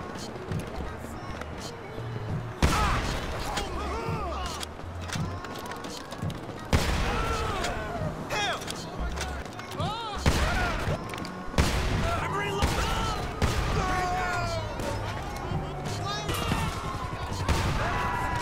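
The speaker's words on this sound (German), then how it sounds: "Wie die Muskete ist die Präzisionspistole eine Einschusswaffe mit hohem Schaden pro Schuss." Single precision pistol shots in the online mode of the video game GTA 5, sharp individual reports spaced several seconds apart with a mix of other game noise between them and no speech.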